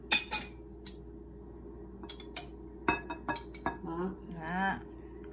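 A spoon clinks against a bowl while mixing chili sauce, salt and mushroom powder into seasoning for beef noodle soup, giving several light, close metallic taps scattered among kitchen noises, with someone speaking briefly.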